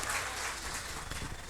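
Dense, steady clapping from a live audience after a group sing-along, filling a brief moment without any talk.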